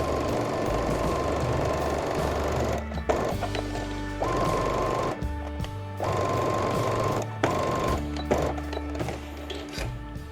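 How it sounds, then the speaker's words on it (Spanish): Sewing machine stitching two fabric pieces along their short edge for a wrap blouse, running in steady motor bursts with brief pauses between seams, close and loud, no talk. "Vamos a coser las dos por el lado corto"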